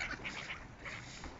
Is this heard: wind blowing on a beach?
no